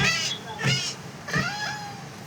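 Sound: cat meowing in the video game Minecraft

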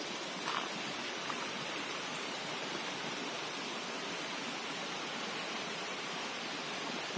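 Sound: waterfall in a rainy forest trail

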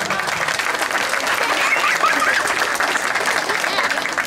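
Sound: applause for a pageant judge

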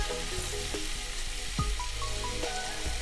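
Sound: garlic frying in butter and oil in a pan

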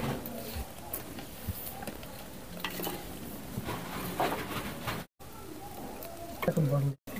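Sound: hand-mixing fish with turmeric and salt

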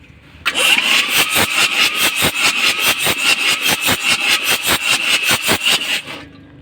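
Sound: car engine started and running

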